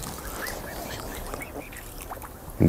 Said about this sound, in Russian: Друзья мои, лебеди.